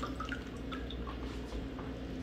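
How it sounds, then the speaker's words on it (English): Water pouring with new aquarium fish into a small one-gallon acclimation cube, a faint, quiet trickle with scattered light drips, close by and without voices. "I'll just go ahead and dump them in there in the same water they came in"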